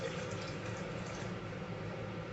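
Steady rush of water pouring into a blender, a continuous splashing flow at moderate volume.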